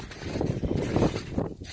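Gusty strong wind at a lakeside tent campsite, buffeting the microphone in uneven close bursts with a broad low rumble and no speech.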